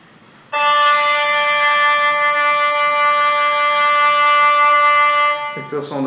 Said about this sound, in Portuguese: Esse é o som da corda Sol.